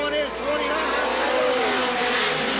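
Late model race cars roar around Sandusky Speedway in a 1985 twin 30-lap feature, engines whining loudly as the pack sweeps past, with a commentator talking over the noise.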